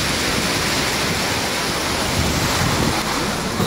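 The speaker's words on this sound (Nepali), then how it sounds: "पानी कति ठुलो आइरहेको हेर्नुहोस्" Heavy rain pours down in a dense, steady hiss that stays loud and unbroken throughout, with no voices.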